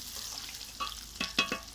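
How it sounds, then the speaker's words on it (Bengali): Potatoes frying in hot oil in a home kitchen, a steady close sizzle broken by a few sharp stirring scrapes toward the end. "আলুটাকে একটু আর একটু ভাজবো।"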